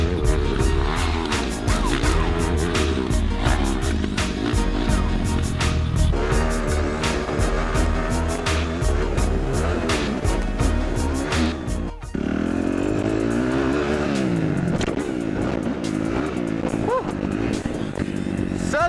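A four-stroke 250cc Kawasaki KXF 250 single-cylinder dirt bike engine runs loud and close, revving up and down repeatedly with a sharp dip midway, rough and raspy throughout.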